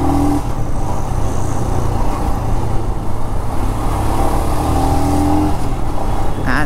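A Royal Enfield Scram 411 motorcycle engine revving on the throttle while riding, a loud, steady engine drone with rising and falling pitch as the revs climb and drop.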